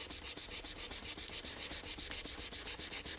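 Uncured pinstriping paint is rubbed away in quick, regular back-and-forth strokes, a close, faint scrubbing rhythm with no voices.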